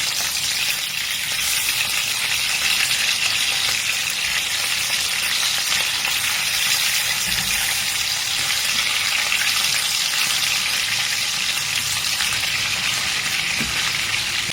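Kebabs fry in a pan of hot oil with a loud, dense, continuous sizzle and crackle that stays even throughout.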